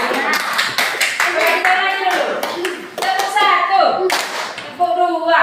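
A group claps hands in rhythmic bursts during a counting clap game, sharp close claps in short clusters with pauses between, while voices call out the count alongside.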